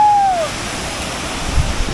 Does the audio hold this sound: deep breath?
no